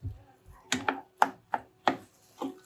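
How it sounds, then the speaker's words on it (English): A spoon stirs Polish potato dumpling mixture in a pot, giving a close series of about seven sharp knocks and scrapes in an uneven rhythm, with quiet gaps between them. "Stirring that in, stirring that in, stirring that in."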